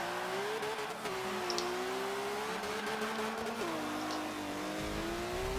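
A racing car's engine drones steadily at high revs with gear-shift dips in pitch, loud and close throughout, without speech; the driver is racing another car that may be a BMW.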